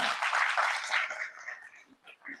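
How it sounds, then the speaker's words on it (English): Audience applause and cheering from a crowded convention panel room at New York Comic Con, dense and loud at first, then thinning into scattered claps and voices that trail off toward the end. "Give yourselves a round of applause."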